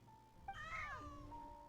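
In the video game Genshin Impact, a cat lets out a single drawn-out meow with a rising then falling pitch, fairly clear over steady background music.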